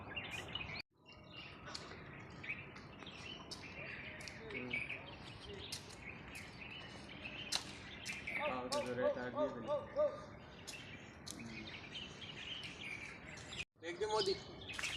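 Birds chirping and calling outdoors at a riverside temple area where pigs are feeding, with repeated short tweets and a run of brighter calls near the middle, moderately close and scattered, alongside some background activity.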